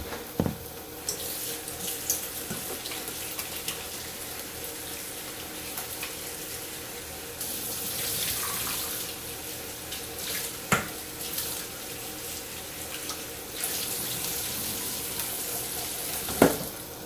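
Tap water runs steadily into a home kitchen sink as starch is rinsed off food, a continuous splashing hiss with several sharp clanks and knocks scattered through it.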